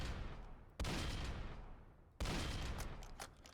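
Two loud, broadband bursts of video game gunfire, each a sharp onset that decays slowly into a noisy tail, spaced about a second and a half apart with no talk over them.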